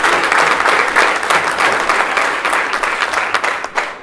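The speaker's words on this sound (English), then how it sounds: "Clap if you know them." Loud, sustained clapping from a school assembly crowd responding to special guests shown on a screen, dense applause lasting several seconds before thinning out near the end.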